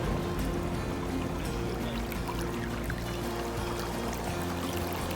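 Water flowing in the Muko River in Osaka, a steady, close rushing wash that carries on without break and has no voices over it.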